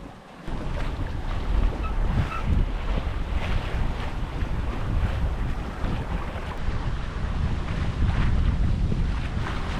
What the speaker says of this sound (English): Today, it's another full day of sailing